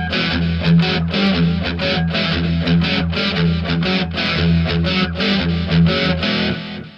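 An electric guitar through an amp's rhythm channel set to a crunchy, lightly distorted tone: strummed chords in a steady rhythmic pattern, loud and close, with no voice over it.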